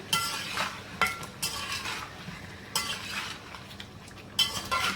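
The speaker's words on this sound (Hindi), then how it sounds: "फिर अच्छे से हिला जुला लें इसको।" A utensil stirs chicken with garlic ginger paste in a karahi, giving scraping, clinking strokes against the metal in irregular bursts over a soft background sizzle, close and moderately loud, with no talking.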